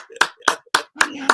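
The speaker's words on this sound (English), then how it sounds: "You need a round of applause for that, fella." A few people clap for a round of applause on a late-night football talk show, four sharp separate claps at an even pace, close and brief, with some voice under the last one.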